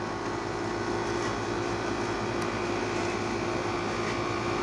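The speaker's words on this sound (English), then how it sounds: "This hall is AC 5 ton outdoor unit. Compressor working, fan also working." A 5-ton air-conditioner outdoor unit hums loud and close, its compressor drone and fan whir holding steady and unbroken throughout, with no voices.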